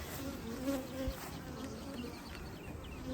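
Honey bees from brand new colonies buzz at a hive, a dense, continuous close-up drone with individual bees whining past, no talking.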